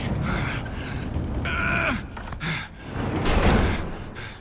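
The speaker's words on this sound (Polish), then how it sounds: "Barykaduj drzwi." In The Last of Us, a door is shoved and barricaded with a drawn-out scraping slide and heavy thuds, while strained grunts and effortful breaths come through a noisy scene.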